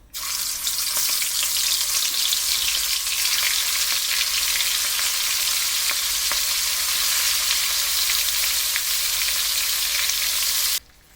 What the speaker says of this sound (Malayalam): നേരത്തെ റെഡിയാക്കി വെച്ചിട്ടുള്ള കൊഞ്ചിനെ നമുക്കൊന്ന് ഫ്രൈ ചെയ്തെടുക്കാം